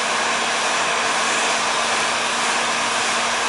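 A heat gun blasts hot air onto a thin wooden strip being bent for a model kayak, giving a loud, continuous, even roar with a faint steady hum underneath and no pauses.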